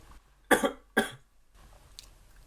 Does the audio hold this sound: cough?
yes